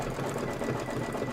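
An embroidery machine stitches a Kimberbell bench pillow design with a steady, continuous whirring hum, moderately loud and alone.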